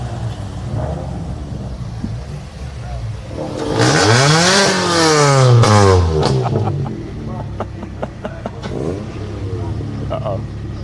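Ford Fiesta junior championship race cars sit on the grid and rev hard, a loud surging engine rise and fall in the middle, with a commentator talking throughout.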